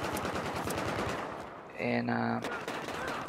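Rapid automatic gunfire from a gun in Battlefield 4 rattles in a dense, continuous burst, loud and close, with brief game tones and a voice speaking underneath.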